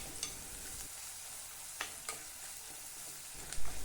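Garlic sautéing in oil with salt for a Kerala-style garlic thokku, a soft steady sizzle in a pan with occasional scraping stirs, fairly quiet and without talk.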